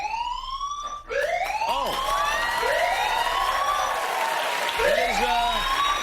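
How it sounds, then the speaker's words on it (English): A wailing alarm siren sounds on a talk show stage, sweeping up and down in repeated rising and falling arcs, loud and continuous throughout. "Oh, I'm sounding the alarm, Jimmy."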